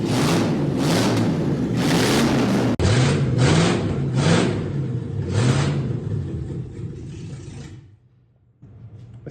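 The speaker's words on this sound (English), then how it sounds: "it'd be kind of rude not to fire it up with no exhaust on at all" Land Rover Series III V8 running with no exhaust fitted, revving in repeated loud, raw bursts that rise and fall, then cutting off near the end; close and alone without talk.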